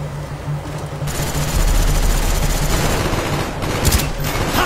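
Machine gun fire rattles from a tower in a video game, a dense continuous burst of rapid shots filling the whole stretch, loud and close with no talk over it.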